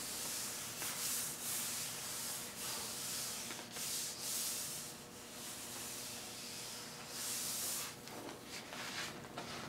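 Transfer sheet being peeled away from a printed inkjet color image, a steady dry rustling and rubbing hiss with brief brighter swells, close and continuous, no voices.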